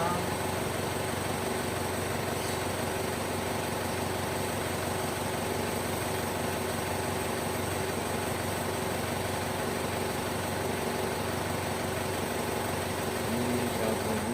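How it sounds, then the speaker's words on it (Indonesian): An Isuzu Panther diesel engine, its turbo having been repaired, idles with a steady, even drone that stays unchanged throughout and is heard close by. "mesin aja yang menyala"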